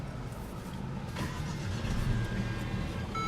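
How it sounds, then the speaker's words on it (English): Idle of a 2017 Mercedes-Benz CLA250's 2.0-liter turbocharged four-cylinder engine, a steady low rumble heard close up inside the car, with no speech. "what you're hearing there is a 2-liter turbocharged 4-cylinder."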